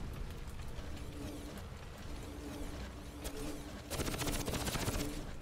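Video game gunfire in Crysis as a player shoots down palm trees: rapid mechanical bursts of shots, fairly quiet at first, then a louder, denser volley toward the end.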